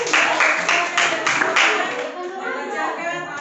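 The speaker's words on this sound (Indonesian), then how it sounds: "Tepuk tangan dulu untuk kelompok ceria." A school class claps for a student group, with several bursts of hand claps up front that thin out into children's chatter and talking.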